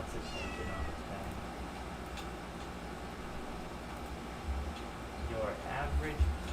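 Clover, a house cat, lets out a couple of short attention-seeking meows near the end, faint against a constant hum and room noise with some talking around it.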